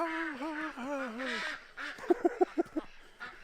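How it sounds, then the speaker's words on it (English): Farm ducks give a quick run of five or six loud, clipped quacks near the end, after a stretch where a person talks close by. "You hear how cheerful the ducks sound?"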